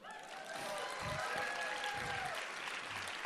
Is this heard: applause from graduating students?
yes